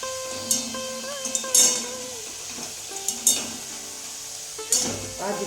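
Leftover chapati pieces frying in a pan, with scraping stir strokes and occasional clinks of a utensil against the metal over a low, steady sizzle, close and moderately loud.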